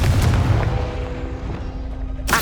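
A Confringo fire spell goes off in the Hogwarts Legacy video game, giving a loud booming blast at the start that trails off into a low rumble, with a sharp burst of noise right at the end.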